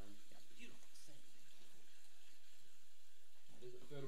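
Water runs from a tap into a porcelain sink with a steady hiss and splash, while voices talk over it near the start and end.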